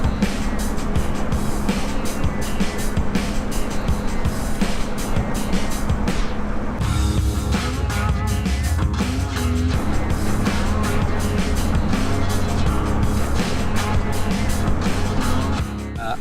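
A Crendon CR 427 Cobra replica with a 351 Windsor V8, Tremec 5-speed gearbox, Edelbrock Performer aluminium heads and carb, driving at a loud, steady engine roar throughout, with shifts in tone midway.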